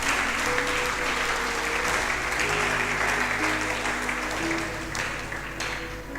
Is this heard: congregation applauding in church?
yes